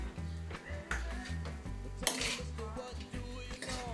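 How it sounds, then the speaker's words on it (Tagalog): A spoon scrapes and clinks against a pot while saba bananas and rice are stirred, the irregular rubbing and knocking repeating steadily at close range. "Haluin ng haluin at mga 6 na minuto maluluto na itong saba."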